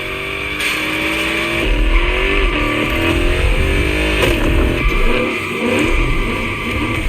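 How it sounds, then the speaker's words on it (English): A car doing victory donuts in The Crew Motorfest at a barnyard gymkhana course, with loud continuous engine revving and tire squeal that swells and dips as the car spins, with no talk. "Yeah, that's what we call victory donuts."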